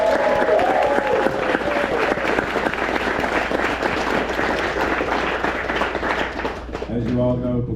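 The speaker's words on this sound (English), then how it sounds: "Everyone give a round of applause." Group applause welcoming Yawanawa guests at an ayahuasca retreat, a full round of clapping with voices mixed in, easing briefly before a resonant tone rings out near the end.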